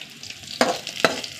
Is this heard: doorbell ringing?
no